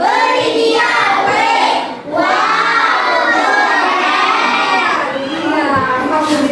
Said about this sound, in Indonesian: Oke, beri tepuk tangan untuk Kalila.